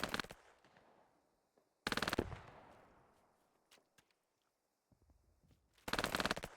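PPD submachine guns rattle off long automatic bursts in a World War II shooter battle, loud sustained volleys at the start, middle and end, with scattered single distant shots and decaying echoes in between.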